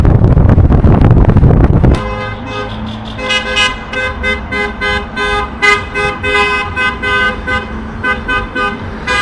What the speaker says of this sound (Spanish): Cuando pasan tantos coches así pitando todo el rato es que hay una boda.